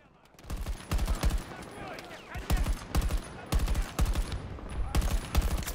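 Automatic rifle fire in a large all-out warfare match of Battlefield, loud repeated bursts of rapid shots with booming low end, close and continuous over the surrounding battle noise.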